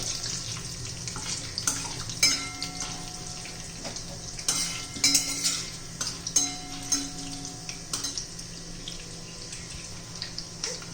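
Chana dal and urad dal roasting in a pan for onion-coriander chutney, stirred with a spoon: close, irregular scraping and clinking strokes over a soft, dry sizzle, with no talk.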